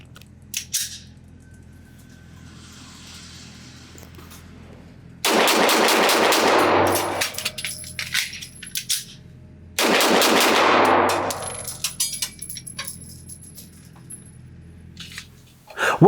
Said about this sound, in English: So let's see how fast I can shoot this thing and how fast I can change the magazine.